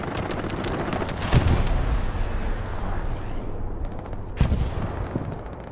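A strafing run in the World War II shooter Hell Let Loose unleashes sustained, dense gunfire and rumbling explosions, with two heavier blasts standing out amid the continuous loud barrage.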